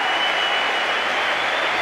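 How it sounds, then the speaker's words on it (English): A cricket crowd at the Sydney Cricket Ground applauds departing Australian batsman Dean Jones during a 1993-94 World Series one-day match against South Africa, a steady, dense wash of distant clapping from the stands with no talk over it. "So Dean Jones acknowledging the applause."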